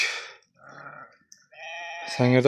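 Hissar sheep bleat outdoors on a rainy day in Sangirdak, Surxandaryo: several wavering calls with quiet gaps between them, ending in a loud, close, drawn-out bleat.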